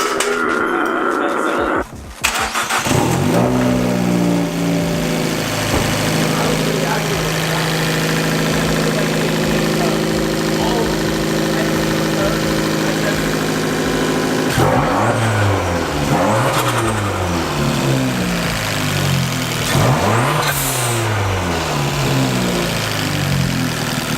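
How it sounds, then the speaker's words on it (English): A Fiat 500 Abarth fitted with a blow-off valve cranks and starts, then idles roughly before several sharp revs rise and fall up close, the engine loud and continuous throughout. "I'm gonna start it up and we'll find out."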